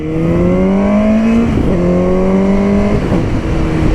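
A Suzuki GSX-S750 motorcycle engine revs hard and close, its pitch climbing and dropping in repeated surges as the throttle is twisted.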